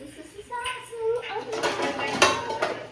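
Kitchen pots, pans and cutlery clatter and clink close by in a home kitchen, with a few quick metallic knocks mixed with voices talking.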